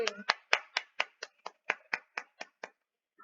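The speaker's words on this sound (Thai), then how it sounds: "ปรบมือให้ตัวเอง" Hands clapping in a steady, even rhythm, about a dozen sharp claps close to the listener, alone with no talk and gradually getting softer before stopping.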